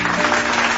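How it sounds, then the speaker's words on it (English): Brief burst of applause played for live stream viewers at a Premier FP Paulson versus Select 18's game, a dense, loud patter of clapping lasting under a second. "We're going to get a little applause for you all"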